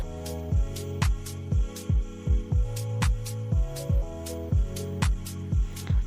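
An electric sewing machine stitches the two sides of a girl's ruffle frock together, giving a steady motor hum broken by repeated rhythmic pulses as the needle runs. No one speaks.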